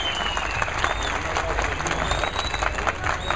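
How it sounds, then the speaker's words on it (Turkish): A gathered crowd bursts into steady, close applause, a thick patter of many hands with faint voices and a high whistle-like tone riding over it throughout. "Alkış yapın canım siz de."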